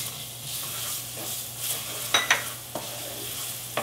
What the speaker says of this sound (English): Just brown the onions a little bit and then we'll add the tomatoes.